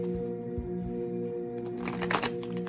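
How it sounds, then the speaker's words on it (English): Tarot cards being shuffled hard by hand, a brief riffling, papery burst near the end that rises over a steady bed of soft background music. "Gotta really shuffle these good."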